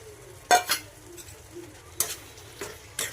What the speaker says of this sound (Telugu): ఇదిగోండి, ఇప్పుడు పెట్టుకున్న బోటి వేసుకోవాలి.